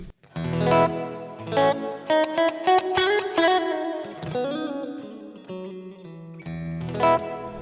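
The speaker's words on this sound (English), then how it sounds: "so that's the plate reverb" An electric guitar plays chords and short melodic phrases through a plate reverb effect, each note trailing off into a smooth, shimmering reverb tail.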